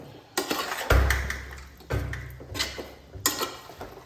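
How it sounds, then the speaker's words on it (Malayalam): Beef biryani ingredients with crushed ginger and garlic are stirred together in a pot, with scattered scraping and clanking of a spoon against metal and a few heavier knocks, close by. "ഇതെല്ലാം കൂടി നല്ലോണം ഒന്ന് മിക്സ് ചെയ്ത"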